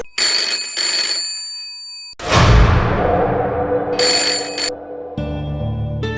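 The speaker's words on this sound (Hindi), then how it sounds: "किसका फोन होगा?" A telephone rings in a horror radio drama: two short bursts of bright, bell-like ringing, then a loud whoosh with a deep rumble, then another brief ring as a low drone sets in.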